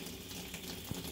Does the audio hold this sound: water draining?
yes